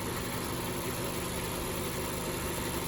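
A 2020 Mazda CX-5 Touring's 2.5-liter Skyactiv four-cylinder engine idles steadily with a low, even hum and faint mechanical drone, heard close and alone.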